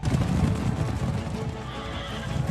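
A racehorse whinnies during a horse race, the neigh rising over a dense, steady crowd and hoofbeat din that stays loud throughout.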